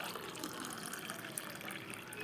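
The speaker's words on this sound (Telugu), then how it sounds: "గ్లాస్లోకి అయితే వేసుకుంటున్నాను." Homemade cucumber, carrot and beetroot juice is poured into a glass, a soft, steady trickle of liquid. It stays faint and continuous for a couple of seconds, with no speech.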